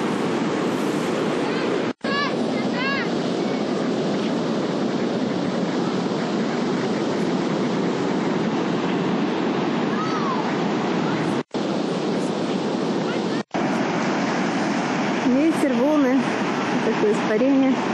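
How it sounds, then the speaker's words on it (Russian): Pacific Ocean surf breaking on a beach, a steady broad wash of waves with wind noise, continuous and fairly loud throughout, with brief dropouts and faint bird-like chirps near the end. "Вот тихий океан."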